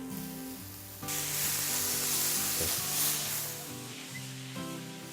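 Paprika and onion hit a hot pan of browning garlic and start stir-frying with a sudden loud, steady sizzle that swells, then eases slightly, under a faint background hum.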